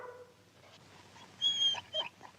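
A dog whimpers and whines softly at a farm being left behind, a few thin, high whimpers rising midway and again near the end over quiet background hiss.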